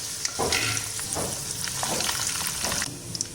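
A South Indian tempering of urad dal, chana dal and dried red chillies fries over a low flame in a pan, giving a close steady sizzle broken by a few scraping stirs, with no talk.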